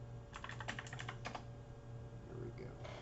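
Rapid clacking keystrokes on a computer keyboard while entering a PKI View search, a burst of close taps in the first half and scattered clicks later over a steady low hum.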